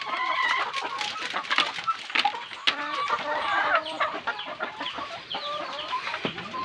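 Layer chickens on a small Filipino farm cluck and squawk in a dense, continuous chorus, with several hens calling over one another close by and some scattered sharper cries.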